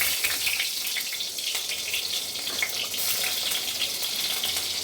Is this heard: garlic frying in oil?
yes